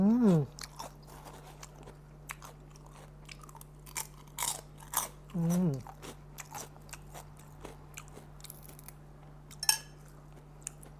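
Crunchy bites and chewing of fried pork rinds dipped in a shrimp paste and green mango chili sauce, close and intermittent against a steady low hum, with no talking.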